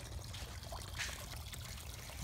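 A mini golf course waterfall, flowing weakly because it was not working properly, gives a steady soft trickle and splash, continuous and fairly faint outdoors.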